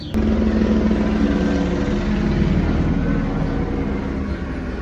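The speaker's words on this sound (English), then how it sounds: "that's a helicopter looking for a wanted criminal" A loud, steady engine drone that sounds like a helicopter flying overhead, sustained throughout with no talking.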